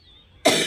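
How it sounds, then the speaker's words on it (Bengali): A single short, sharp cough from an elderly woman bursts out after a near-silent moment, close and fairly loud. "বয়স হয়ে গেলে কাশি হয়, সবারই কাশি হয়"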